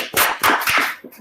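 Several sharp, crisp claps burst out in quick, uneven succession as a small online group applauds a participant over open microphones.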